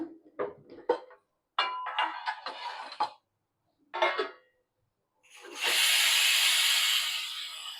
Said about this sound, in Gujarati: હવે આપણે એકદમ ટેસ્ટી સરસ મજાનો વઘાર કરશું